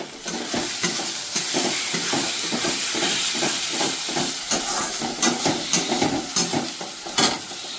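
Ground cumin, coriander, turmeric and red chili powder fry in a pan for a crab curry, giving a constant loud sizzle with rhythmic scraping as they are stirred, and no talking.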